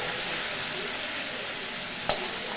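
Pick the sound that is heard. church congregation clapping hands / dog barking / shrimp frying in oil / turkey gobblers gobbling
shrimp frying in oil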